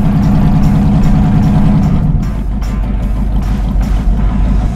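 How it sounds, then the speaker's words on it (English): A real Hot Wheels monster truck car's engine idles with a loud, steady low rumble from start to finish, with no talking over it. "The engine sounds good."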